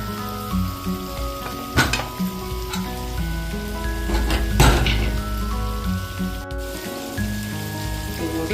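Goat head mutton, seasoned with a pinch of turmeric, roasts in a pan with a steady sizzle, with a few sharper bursts, under a bed of background music.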